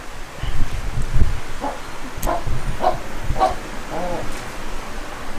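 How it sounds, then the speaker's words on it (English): A lizard in Port Barton, Palawan, in the Philippines, calls with a series of about five rough, dog-like barks in an uneven rhythm at moderate distance, amid rustling and some human voices. "You got to hear this lizard, guys"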